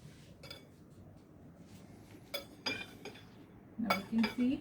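Salad mixed slowly with radish paste, utensils clinking lightly against a bowl in scattered taps that grow louder and closer toward the end over a quiet background.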